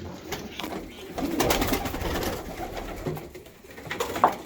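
Pigeons from Iraq coo softly nearby in a coop, with low throaty calls repeating amid light rustling and faint background voices.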